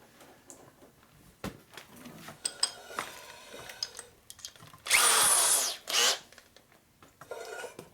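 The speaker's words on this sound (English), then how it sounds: "I gotta deburr the holes." Deburring holes in Harley-Davidson 1978 Shovelhead engine parts: scattered metallic clinks and taps, then two loud, close bursts from a power tool, the first lasting about a second and the second shorter.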